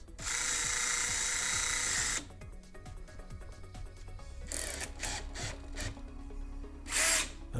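An electric drill clamped in a vise whines at high speed for about two seconds and winds down, then comes rapid clicking and scraping, and the drill spins up again in short bursts.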